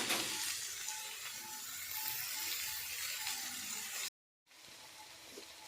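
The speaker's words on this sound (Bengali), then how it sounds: "সয়াবিন আলু কষিয়ে নিচ্ছি।" Soybean chunks and potatoes sautéing in oil give a steady, close hiss and sizzle, broken by a short silent gap before the frying noise resumes.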